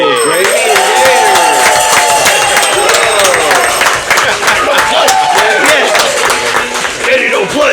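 Bar patrons clap and cheer for beer drinkers during a tap takeover night, loud, close applause mixed with shouting voices and lively crowd chatter throughout.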